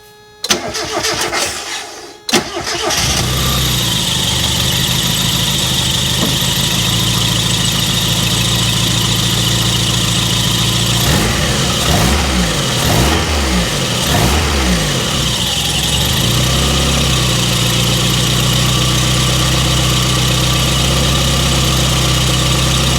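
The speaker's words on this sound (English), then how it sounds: "Let's go fire this thing up and see what it does." A Mazda Miata engine cranks briefly, fires and settles into a loud, steady idle that holds for about twenty seconds, with a few slight rises in pitch midway and no talking.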